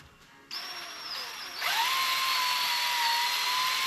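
A power drill priming the engine oil pump of a 1972 AMC Javelin parked for 52 years whirs up to speed, a high whine that dips briefly, then settles into a steady loud drone under load.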